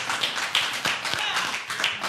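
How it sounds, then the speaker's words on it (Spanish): Audience clapping during a Spanish-language television program, a few scattered claps with voices mixed in rather than a full ovation, close and moderately loud. "Un aplauso grande."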